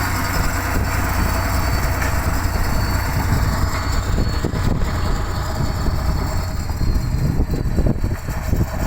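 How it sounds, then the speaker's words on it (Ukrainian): A loud, steady SMD diesel engine on a T-150 tractor bulldozer rumbles nearby, running continuously at an even idle with no voices. "Двигун, як ви бачите, СМД працює."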